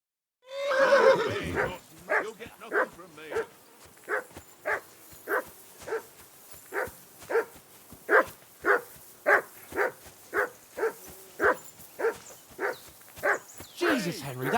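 A dog barking repeatedly in Kingdom Come Deliverance II, loud and close, in an even series of about twenty regular barks after a brief noisy opening.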